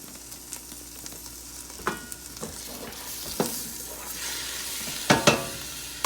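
A lamb braise sizzles and fries in a pan set back on the heat, a steady hiss with scattered clinks and scrapes of utensils, close and moderately loud, with no one talking.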